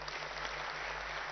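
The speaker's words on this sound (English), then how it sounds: "so I think it deserves a bigger round of applause." Steady applause from an audience at a mobility valley launch event in Hyderabad, a dense, continuous wash of clapping with no pauses and no talk over it.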